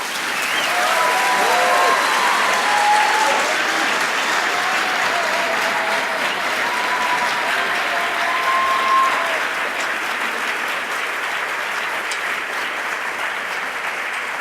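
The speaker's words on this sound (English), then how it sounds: "one final applause for all of our students" Audience applause at a medical school white coat ceremony for students, a dense, sustained roomful of clapping that holds steady throughout with a faint tail of crowd noise.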